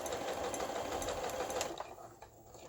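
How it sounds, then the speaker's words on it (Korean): An NCC smart computerized household sewing machine running a straight stitch and then a zigzag stitch: a steady fast mechanical whirr and chatter that slows and stops near the end, with no voices. "직선 바느질 정상적으로 나오고 5번의 지그재그 바느질이 되겠습니다. 예, NCC 스마트 재봉틀"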